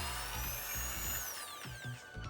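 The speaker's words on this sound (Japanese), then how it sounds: "このドリルも激安でしたが、もうちょっと高性能なドリルも欲しくなってきました" A cheap electric drill whines as it bores a hole while parts are made for a Honda CT125 aftermarket headlight swap, its pitch rising and then sliding down under load, alone and fairly close.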